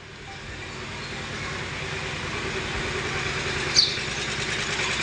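A tractor engine drives a pressure washer pump with a steady, close mechanical drone that builds slightly in loudness, broken by one short sharp click partway through.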